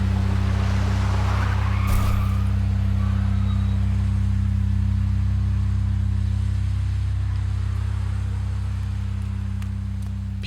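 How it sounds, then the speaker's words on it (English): A car skids, tires screeching briefly near the start, then a crash, set against a loud constant low rumble and hiss with rain; no talking. "People can't help but turn their heads at the sound of a crash."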